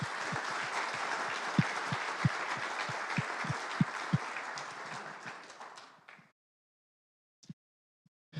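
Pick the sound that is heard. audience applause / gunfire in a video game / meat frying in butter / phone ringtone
audience applause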